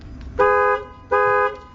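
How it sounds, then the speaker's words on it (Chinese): A motorhome's new, more pleasant-sounding replacement horn gives two short, evenly spaced honks, each a clear, loud, harmonic tone with nothing else over it. "喇叭换成比较好听的喇叭"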